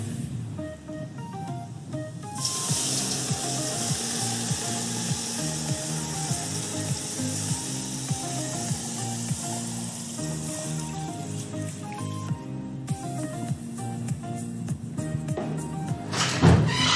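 A pot of stock, with tomato paste and water just added, simmers and sizzles steadily throughout, with a faint tonal background running under the bubbling.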